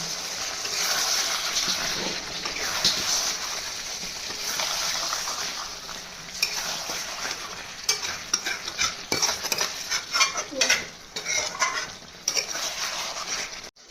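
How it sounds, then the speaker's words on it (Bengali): Chicken curry with chopped tomatoes is stir-fried in a pan for a homestyle desi chicken dish, with a steady sizzle and repeated scraping and clinking of the spoon against the metal, growing more choppy and percussive toward the end. "সবার শেষে দেবো, দিয়ে আর একটু কষবো।"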